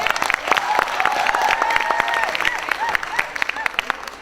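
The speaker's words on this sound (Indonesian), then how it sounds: "tepuk tangan dulu" Audience applause at an Indonesian cultural gathering, a Gus Dur haul commemoration in Cairo: scattered clapping mixed with crowd murmur and a speaking voice over it, steady and moderately loud throughout.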